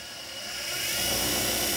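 An Axminster Precision Pro pen lathe running and changing speed, a whirring motor whine whose pitch and loudness rise over a couple of seconds to a steady high drone.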